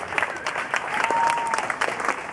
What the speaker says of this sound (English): A big applause for all of us.